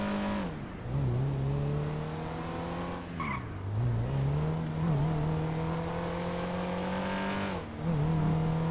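A car drives in GTA 5 Online, its engine holding a steady mid-pitched drone that dips and climbs through several gear shifts and brief revs. The engine is close and continuous, with no talking.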